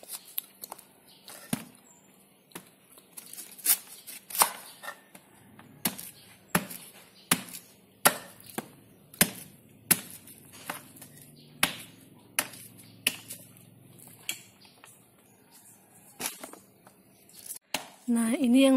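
Knife chopping through jackfruit on a board for a savory jackfruit vegetable dish, a long run of sharp irregular thuds, near and fairly loud, with faint background murmur.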